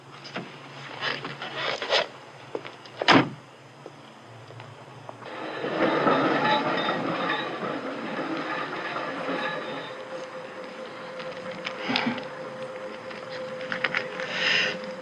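A tram rolls through town, with a steady rumble of wheels on rails, clickety-clack, a sharp knock and a drawn-out wheel squeal, heard nearby and fairly loud throughout.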